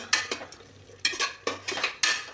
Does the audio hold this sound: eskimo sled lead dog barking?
no